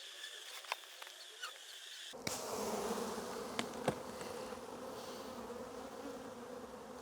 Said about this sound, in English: I'll let the bees cluster up back into the original position.